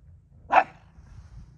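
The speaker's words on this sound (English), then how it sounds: "Where are you barking at, Po?" A pug lets out a single short, sharp bark, close and clear, over a low hum of background noise.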